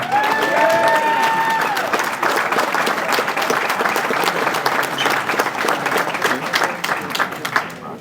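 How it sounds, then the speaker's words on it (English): Banquet-room applause for modified track racing drivers at a speedway awards banquet, dense and loud clapping mixed with a few whistles and crowd murmur early on, holding steady throughout. "Round of applause for our modified drivers"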